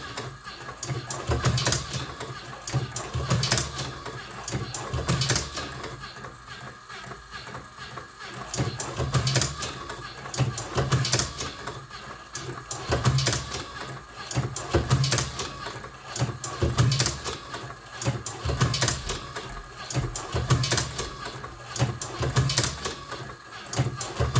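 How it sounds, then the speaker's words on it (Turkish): An electric slide-type slim cigarette rolling machine turns a cigarette slowly, giving a steady mechanical whirr with repeated rhythmic pulses and clicks at close range, alone without talk. "hem makineyi tanıtmak amacıyla yavaş yavaş sarıyorum ben de"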